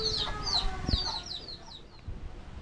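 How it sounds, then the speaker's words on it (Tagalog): Ducks calling on a rural farm in the Philippines in bursts of short, high cackling notes close by, fading toward the end, with no talking. "dami siyang pato dito"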